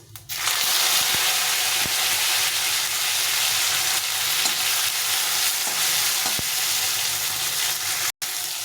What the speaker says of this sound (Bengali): এই টমেটোটা দিয়ে দেবো তেলের মধ্যে দিয়ে ভেজে নেবো